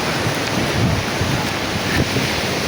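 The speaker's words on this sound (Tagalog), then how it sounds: "Running on the beach." Surf on Boracay beach washes in a steady broadband roar while someone runs along the sand, heavily buffeted by wind noise on the microphone, with no talking.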